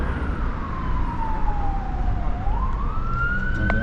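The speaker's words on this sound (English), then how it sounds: "There's an ambulance." An ambulance siren wails on a city street, its tone sliding steadily down then rising again, loud and continuous over a dense bed of traffic rumble.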